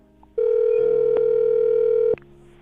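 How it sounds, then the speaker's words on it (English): A telephone dial tone before a call is placed, a steady loud electronic hum holding for under two seconds then stopping abruptly, with faint room sound on either side. "I'm going to dial her phone number right now"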